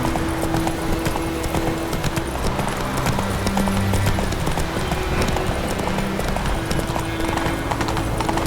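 Roach the horse gallops in Witcher 3, hooves clip-clopping in a fast, steady rhythm under a continuous game soundscape with a faint tonal hum.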